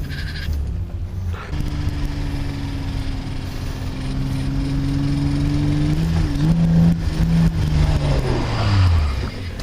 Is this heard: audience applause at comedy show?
no